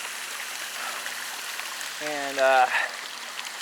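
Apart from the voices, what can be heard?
creek water flowing near a waterfall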